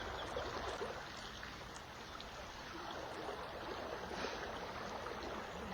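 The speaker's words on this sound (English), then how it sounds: "this is the Colorado River." The Colorado River flowing, a steady broadband rush of moving water heard outdoors, continuous and fairly even in level throughout with no voices.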